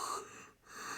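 A narrator's voice imitates a mouse letting out a big yawn: a breathy, wheezy exhalation that swells, dips briefly in the middle, then rises again over about a second.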